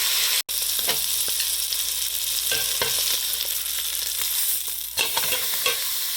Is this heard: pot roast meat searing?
yes